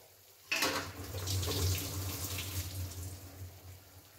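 Water pours steadily from a pan of boiled suran (elephant foot yam) into a sink, a continuous splashing rush that starts suddenly and keeps flowing to the end.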